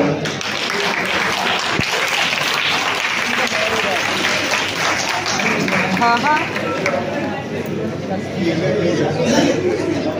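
An audience applauds during a Kakori-incident patriotic stage play, with sustained dense clapping and crowd chatter that runs under a voice speaking throughout.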